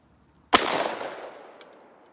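A single loud shotgun slug blast from a Dissident Arms KL-12 fired offhand at steel targets at 70 rings out with a long fading echo, followed by a faint distant ping from a hit.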